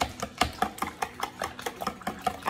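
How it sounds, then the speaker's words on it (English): Egg mixture for a bacon spinach quiche is whisked in a bowl, giving quick, regular rhythmic tapping and swishing strokes, close and moderately loud, with no talking. "And then I'm going to whisk that up."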